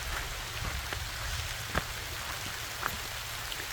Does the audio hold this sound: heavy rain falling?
yes